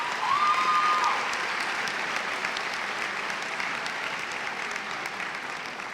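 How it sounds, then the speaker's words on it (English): Sustained applause from parents and guardians at a high school graduation ceremony, a broad wash of many hands clapping at steady loudness that eases slightly over six seconds. "So please give yourselves a round of applause."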